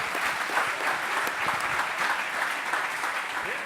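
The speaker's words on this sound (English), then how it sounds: "So you can give him a round of applause," Audience applause for a Formula SAE team captain at a public design review, a dense, steady wash of many hands clapping that stays even and fairly loud throughout with no talk over it.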